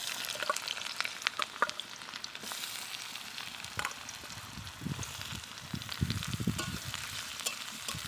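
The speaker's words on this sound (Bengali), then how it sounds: "পেঁয়াজগুলো একটু লাল লাল করে ভেজে নেব" Chopped onions frying in leftover oil in a kadai for a soybean kofta curry, a steady close sizzle broken by scraping stir strokes and spattering crackles, with no voices over it.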